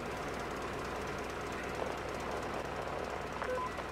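A rail car engine in Metro Exodus runs at a low, steady rumble beneath faint background noise, with a few small metallic clanks and no talk.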